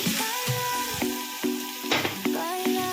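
Okra (ladies finger) fries in a pan with salt and chili, sizzling steadily up close, with brief stirring scrapes and clinks breaking in every half second or so over three seconds.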